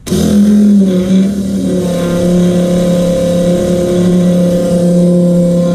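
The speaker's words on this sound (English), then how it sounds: "That's the fuel pumping out of this tank back into my transfer tank, pumping in reverse." A Fill-Rite 15 GPM fuel pump running in reverse, pulling fuel out of a tank and back into a transfer tank. It starts abruptly and settles into a loud, steady motor hum close by, with no talk.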